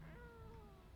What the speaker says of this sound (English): let's feed the cat.